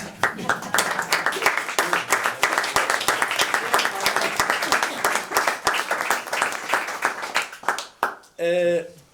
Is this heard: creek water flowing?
no